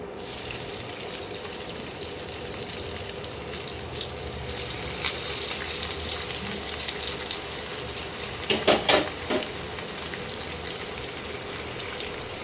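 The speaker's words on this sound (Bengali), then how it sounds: "এইবারে আমি ফ্রাইগুলো একটা একটা করে ভেজে নেব।" Lote fish fries sizzle in hot oil, a steady hiss that runs throughout, with a brief clatter of utensils near the end and no talking.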